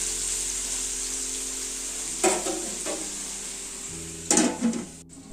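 Fish roasting in a pan with radish, a low steady sizzle with two bursts of stirring and scraping against the pan, no voices.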